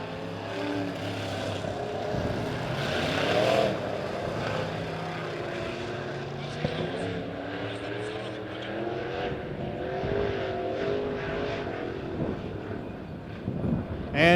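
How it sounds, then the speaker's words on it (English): Street stock race cars at Springfield Raceway, engines droning and rising as they run single file under a caution, heard steadily through the clip with a track announcer talking over it. "And cars get single file so they can get them lined up for a restart as they come right across the start-finish line."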